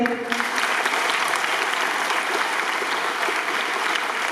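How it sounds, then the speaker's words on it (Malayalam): Applause for winning schoolchildren at a school event, a dense, steady burst of many hands clapping at close range, loud and continuous for several seconds. "ഒന്ന് കൈയടിച്ചേ"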